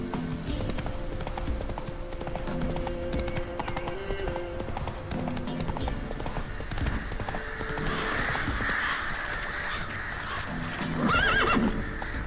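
Roach the horse runs with steady hoofbeats in The Witcher 3 under game music, then gives a loud, clear neigh near the end.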